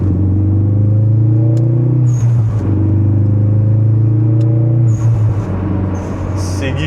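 Big-turbo Ford Focus RS on wide, stiff tyres, heard from inside the car while driving: a loud, steady low engine drone with a brief dip and shift around the middle, constant rumble throughout.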